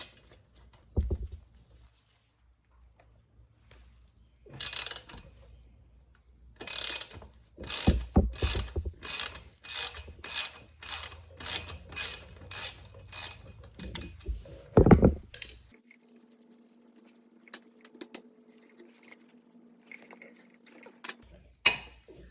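A ratchet wrench works loose the 16mm and 14mm bolts on a Honda Grom, clicking in rapid, evenly spaced bursts close up, broken by clanks of tool and metal. A faint steady hum runs near the end.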